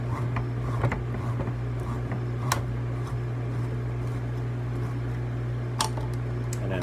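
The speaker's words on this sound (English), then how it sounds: "here is the can opener. So I just put it on the edge, push the button here, and then it catches" A steady motor hum from an electric can opener runs without a break while it cuts around a can, with a few sharp clicks and clanks along the way; close and fairly loud, no speech.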